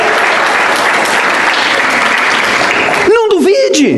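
A church congregation applauding, a dense steady wash of clapping that fills the room for several seconds before a preacher's voice cuts in over the tail of it.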